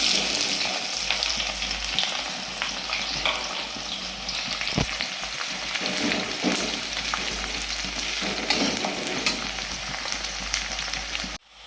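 Onions fry in a kadai for spicy mutton curry, giving a steady, close hiss and crackle of hot oil with occasional stirring scrapes throughout, no voices.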